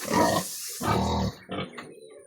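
A Large White sow grunting up close, loud rough grunts in three bursts with short gaps, on a pig farm.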